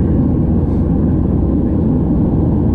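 Steady, loud cabin roar of an airplane in flight, a dense low rumble with no breaks for the whole stretch and no voices.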